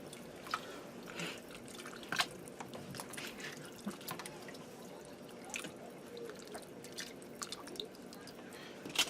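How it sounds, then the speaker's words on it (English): Jambalaya ingredients stirred in a pressure cooker, with soft wet squishing and dripping, intermittent light scrapes, fairly quiet and close throughout. "I'm going to stir this up good."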